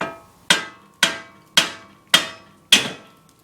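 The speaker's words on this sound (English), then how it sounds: "You may have to give it a little tap" Five evenly spaced, ringing metallic hammer taps on a Jeep Wrangler axle shaft as it is knocked loose during an axle seal replacement, each strike sharp and close, decaying quickly, with no talk.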